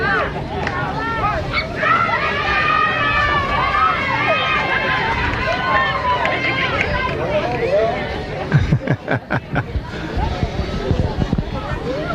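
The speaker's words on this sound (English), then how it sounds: "As they get encouragement from the crowd." A lively crowd cheers and shouts encouragement for a girls' performance routine at an outdoor Juneteenth celebration in Austin, Texas, with dense overlapping voices and rhythmic stomping or clapping near the end.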